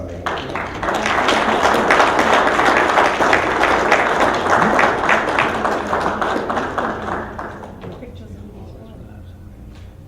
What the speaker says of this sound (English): Join us in applauding Deputy Inspector Henry Kia for his outstanding